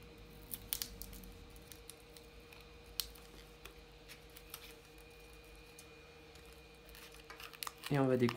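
Plastic pry tool slicing through the screen adhesive between the frame and glass of a Startrail 6 Plus 4G phone, heard as faint scratchy clicks and crinkles over a steady low hum, with a louder rustling burst at the end.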